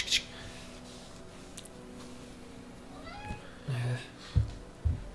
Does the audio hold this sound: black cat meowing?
yes